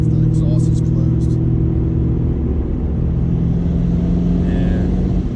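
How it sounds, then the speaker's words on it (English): A Camaro ZL1 engine rumbles steadily and close, a low throbbing drone with a faint whine from the turbos riding above it. "it's nice to hear the turbos."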